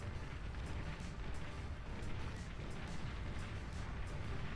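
In the Beyond All Reason video game, a chain of energy converters blows up as a dense, continuous rumble of overlapping explosions and booms, loud and sustained for several seconds with no voices.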